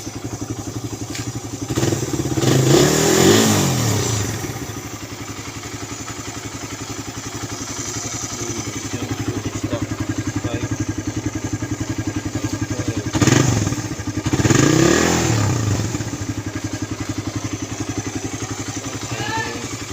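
A motorcycle engine runs steadily nearby, swelling twice into louder revs with some clattering, no talking over it.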